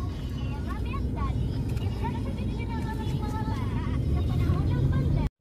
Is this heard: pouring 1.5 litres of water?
no